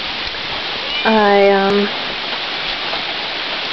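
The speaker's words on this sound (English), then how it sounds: "because it's raining" Rain falling outside a front porch, a steady broadband hiss throughout, with a brief spoken word from a nearby voice partway through.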